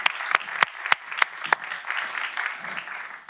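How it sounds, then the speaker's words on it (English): Applause for panelists at a conference on innovative financing for transboundary water cooperation, starting with several sharp, distinct claps close by, then blending into a softer, lighter patter of clapping from a small audience. "So let's give a round of applause to the panelists"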